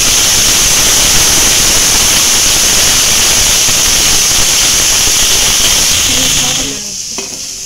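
Cauliflower florets with their stalks frying in hot oil give a steady, loud, close sizzle and hiss that fades slightly near the end, where faint clinks of a utensil can be heard.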